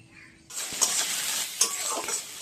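Fish frying in a hot pan with ginger and garlic, a steady broadband sizzle that starts abruptly after half a second, with a couple of sharper spatula stirs and scrapes over the continuous hiss.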